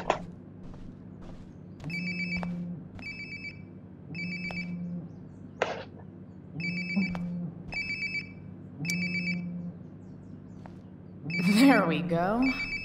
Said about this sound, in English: It sounds like my phone is definitely nearby.